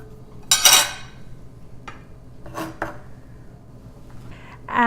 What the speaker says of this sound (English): now let's work on cutting up the shrimp